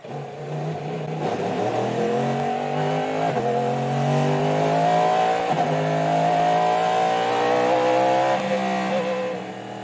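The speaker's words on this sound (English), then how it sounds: "Pipo Derani has one task: to keep this number 31 car ahead of the number 10 Wayne Taylor Racing Acura" Loud engines of IMSA GTP prototype race cars, including a Wayne Taylor Racing Acura, rev and climb through the gears continuously at Petit Le Mans 2023, several cars roaring together with rising pitch, close and sustained.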